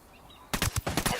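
Gunfire in Ghost Recon Wildlands erupts after a brief quiet moment as a rapid burst of about six loud, close automatic shots in an uneven rhythm.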